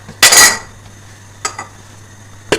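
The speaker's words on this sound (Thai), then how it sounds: "ปิดฝา" A metal lid is set onto a pot of Turkish chickpea soup (kemikli nohut), giving one loud, close clank followed by two lighter clicks as it settles.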